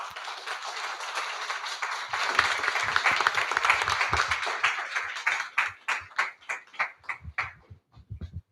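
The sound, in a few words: audience applause welcoming graduates to the stage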